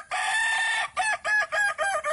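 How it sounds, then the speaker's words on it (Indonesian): A kukuak balenggek rooster, a chicken breed from Kecamatan Tigolurah, crows loud and close: one long opening note followed by a rapid series of short, stepped, tiered calls. "Suara berkokok inilah ciri khas ayam kukuak balenggek."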